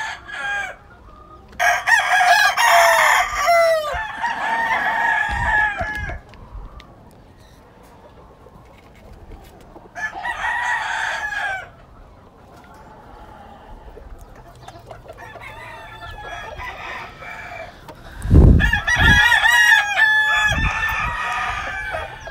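Lacy Roundhead roosters on a farm crow repeatedly in long, strained calls, several bursts separated by quiet gaps, with occasional clucks and soft thumps in between; fairly close and clear.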